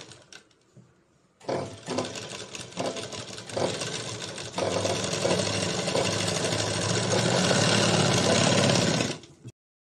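A sewing machine stitches the lining of an aari-work blouse, running in a few short starts before a long, loud and steady whir of rapid stitching that stops abruptly.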